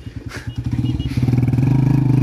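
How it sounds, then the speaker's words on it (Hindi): A motorcycle beside a lakeside bridge at Mangla Dam is kick-started, giving a few uneven sputtering turns before the engine catches and settles into a loud, steady, throbbing idle close by. "चलो रासा मारो किक"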